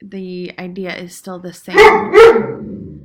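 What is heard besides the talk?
dog barking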